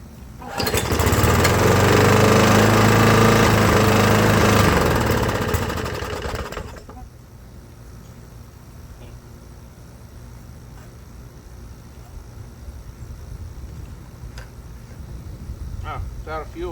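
A lawn mower engine with a suspected head gasket problem starts and runs rough and loud for about five seconds, then dies down to a faint sputter against the quiet. A voice talks briefly over it.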